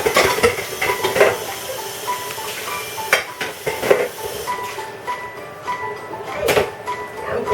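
Potatoes riced and mashed in a pot for Irish mash with yogurt, chard and bacon, heard as repeated clanks and scrapes of a utensil against the pot in an uneven rhythm, close and moderately loud, with no talking.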